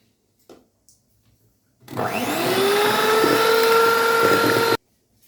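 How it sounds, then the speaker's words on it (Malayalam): An electric hand beater whirs loudly for about three seconds, mixing steamed vanilla sponge cake batter of beaten eggs and sunflower oil, a steady high motor whine that starts and stops abruptly, with faint clicks before. "ചെറുതായിട്ടൊന്ന് നമുക്ക് മിക്സ് ചെയ്യാം"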